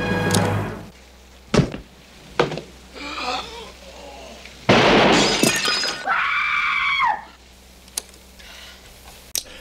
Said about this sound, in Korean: 뭔가 둔탁한 소리 같은 게 들리고, 그리고 나서 총소리가 나고 병이 깨지는 소리 이후에 여성의 비명소리가 들립니다